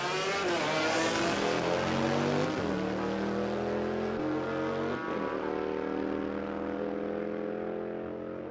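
A drag racing motorcycle at Warwick Dragway in Australia, the 150 mph bike ridden by Alan Anise, roars loud and close, its engine climbing steadily through gears with a brief shift dip before a long sustained howl.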